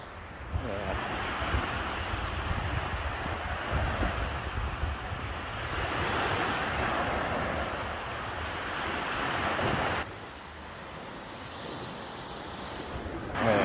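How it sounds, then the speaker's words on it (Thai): Surf washes steadily onto a beach on Samui in Thailand, a continuous close roar of breaking waves mixed with wind buffeting the microphone, easing briefly near the end. "น้ำทะเลนะครับ"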